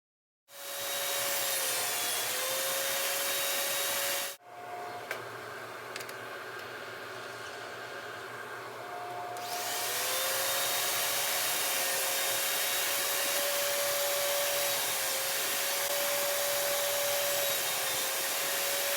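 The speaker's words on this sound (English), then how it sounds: "the idea is going to be to nibble away at it with the table saw" A table saw nibbles away at the curved side of a wooden bombé-style box, its loud motor whining steadily with scraping cuts, briefly dropping off before spinning back up to a sustained drone.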